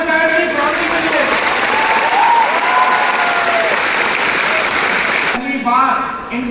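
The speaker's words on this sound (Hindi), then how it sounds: "उसके बाद प्लीज जोरदार तालियों का मेरी फैमिली के लिए" Loud applause from a large crowd at a Delhi success day event, honoring the speaker's family seated in the audience; a thick, continuous roar of clapping with tonal music or voices over it, a brief dip near the end.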